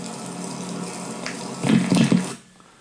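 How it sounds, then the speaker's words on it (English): Water pours steadily down onto a sheet of plexiglass above a camera, then swells into a few heavier splashing surges before cutting off to near silence. "the water's coming down on a piece of plexiglass and the camera's underneath it"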